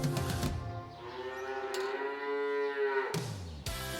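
Beef cattle mooing, one long drawn-out low moo rising and falling in pitch, close and clear over faint background noise.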